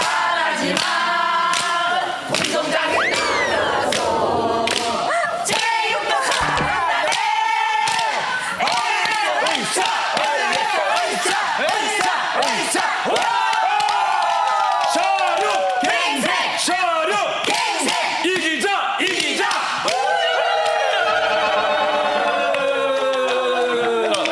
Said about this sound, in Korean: 자력 갱생팀 응원 시작!